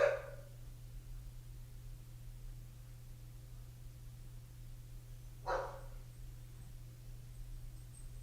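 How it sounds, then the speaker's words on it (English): Two dogs from next door bark, each a single faint, distant bark, one right at the start and another about five seconds later, over a steady low electrical hum and background hiss. "my neighbor's dogs are here"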